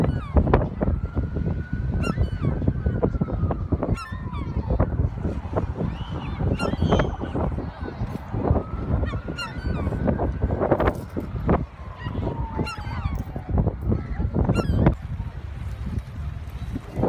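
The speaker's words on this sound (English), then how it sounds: "There they are, gathering anywhere where there's food around, you'll find seagulls." Seagulls at the seaside in Margate, calling in repeated cries and squawks over a busy background with intermittent clatter and a low hum, moderately close.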